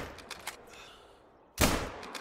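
A single rifle shot cracks out in theHunter: Call of the Wild while hunting a canine, one sharp loud burst after faint ticking and quiet ambience, ringing briefly afterward.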